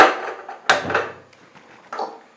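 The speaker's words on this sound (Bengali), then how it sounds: "এটি কড়াই বসিয়ে দিলাম গ্যাসের মধ্যে" A wok (kadai) set down on a gas stove while cooking raw mango jhuri bhaja: a sharp, close clunk followed by a softer knock and a later light bump, with quiet kitchen noise between them.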